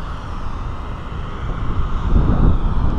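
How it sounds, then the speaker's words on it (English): Wind blustering outdoors during a windshield replacement on a 2018 Nissan GT-R, a constant low rumble buffeting the microphone and swelling louder toward the end, with no speech. "It's kind of windy today."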